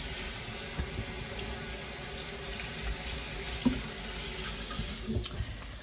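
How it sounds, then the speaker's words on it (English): Cabbage rinsed under a running kitchen tap, with a steady broadband stream of water into a sink and a few soft knocks and splashes as the leaves are handled. "Rinse my cabbage off real good."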